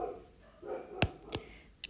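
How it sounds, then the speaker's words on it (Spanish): Dogs bark somewhere in the distance, a few faint, sharp yaps in quick succession over a quiet room background, with no one speaking. "Los perros."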